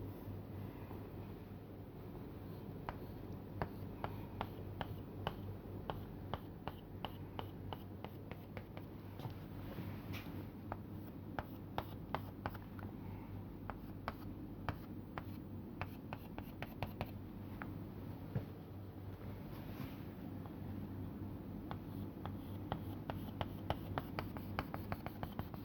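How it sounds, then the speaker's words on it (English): Pen drawing poles on paper, a long run of faint, close scratchy strokes and light taps in quick irregular succession over a steady low hum, with no talking. "I will just draw few more poles here."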